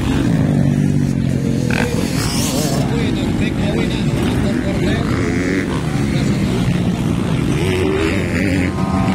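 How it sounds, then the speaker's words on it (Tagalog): A racing motorcycle in a novice final heat, its engine misfiring, revs and sputters continuously under loud, excited race commentary that runs throughout. "Medyo palyado ang motor ni Cortez, ni Flores."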